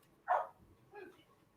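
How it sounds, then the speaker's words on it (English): A single dog bark rings out near and clearly, followed about half a second later by a softer second bark, both over quiet background. "Dog bark."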